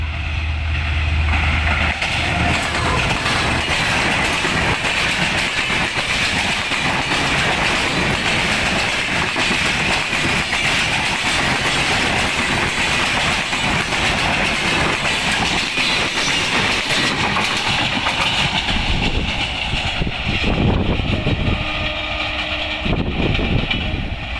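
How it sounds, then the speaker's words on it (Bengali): Fast express train in North Bengal racing toward Dhaka, a loud continuous roar of wheels and carriages with steady clickety-clack rhythm, heard up close, no talking. "এই ট্রেনটি অত্যন্ত দ্রুত গতিতে রাজধানী ঢাকা অভিমুখে চলছে"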